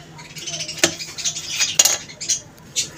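Half a green chili being chopped on a board, giving a few scattered knife clicks and clatters at close range, with no talking.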